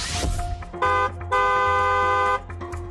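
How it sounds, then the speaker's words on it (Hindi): A vehicle horn sounds on a foggy road in two honks, a short toot and then a longer sustained blast, over a low rumble of traffic. "सावधानी वाला हॉर्न बजाना जरूरी"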